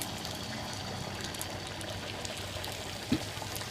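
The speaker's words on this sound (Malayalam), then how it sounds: "ഇനി നമുക്കിതിനെ ചൂടായ എണ്ണയിലോട്ട് വയ്ക്കാം." Batter-dipped papadams dropped into hot oil for Kerala pappada vada give a steady, fairly quiet sizzling hiss with no talk.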